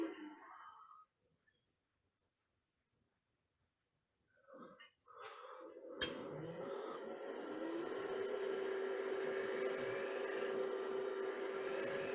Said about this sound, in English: I'm just going to switch back to that half-round scraper and just blend the bottom slightly better.